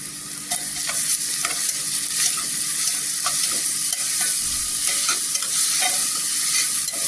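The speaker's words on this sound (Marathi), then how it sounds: "वाटण पण छान असा तेलावर परतून घ्यायचा" Green masala paste of ground chillies and garlic sautéing in hot oil with fried golden onions, for green-pea rice; a steady close sizzle runs throughout with repeated light scraping stirs and no talk.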